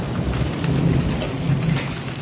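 Steady rain and rumbling storm noise from a Texas thunderstorm with strong wind and large hail near Sanger, a continuous wash of rainfall with low thunder-like rumble and no voices.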